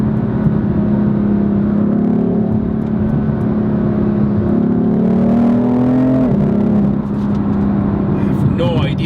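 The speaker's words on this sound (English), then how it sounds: "Look at the downshifts, guys." A BMW M4 LCI Competition's exhaust drones loudly up close, its pitch sliding through downshifts with a sharp drop near the end, heard from inside the car.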